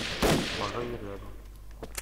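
A single loud P90 shot or short burst near the start in a shooter game, fading into a ringing tail and then a quieter, distant pop near the end. A voice can be heard faintly under the sound.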